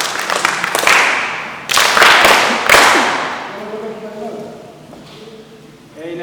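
An audience at a church gathering led by a bishop breaks into bursts of clapping, loud rounds of applause that swell and fade twice, before a voice speaks over the quieter room.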